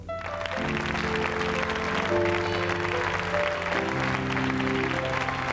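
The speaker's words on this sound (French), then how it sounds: "je vais demander tout de suite que vous applaudissiez très fort Madame Lynn Renaud" A studio audience at a 1987 New Year's carnival television show gives loud, steady applause welcoming Lynn Renaud, the clapping sustained from start to finish beneath sustained band music.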